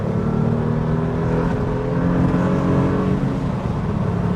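A Renault Clio V6 with low mileage pulls hard under steady acceleration, a continuous loud engine drone with layered harmonics that rise gradually through the clip, heard close from inside the car with no talking.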